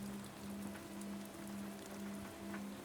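Gentle rain falling on wet stones and flowers near a window box, a faint even patter over a low steady hum, with no one speaking.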